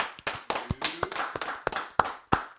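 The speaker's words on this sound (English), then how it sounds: "Clap it up for him real quick" A few people clapping for a guest joining a casual tequila-club talk show: sparse, uneven claps close by, around a dozen sharp hand strikes in loose rhythm, with faint voices murmuring briefly underneath.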